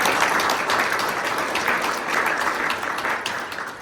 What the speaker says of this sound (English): I want to give you guys a big round of applause